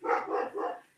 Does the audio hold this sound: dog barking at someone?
yes